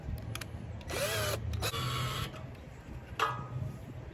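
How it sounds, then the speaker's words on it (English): A power drill boring holes in a bumper's backing plate, heard as several short whirring bursts, close and moderately loud, with brief pauses between them. "drill a couple extra holes in the backing plate of the bumper"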